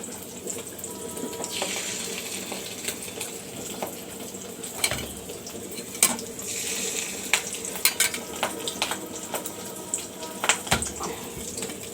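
Fish roe fritters frying in oil over a low gas flame, a continuous close sizzle punctuated by sharp pops and spits throughout, with occasional clinks of utensils and no talking.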